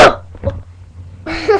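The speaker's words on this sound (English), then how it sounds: "I gotta sneeze." A person sneezes once at the very start, a short sharp burst, followed by quiet breathy sounds and then a brief vocal noise.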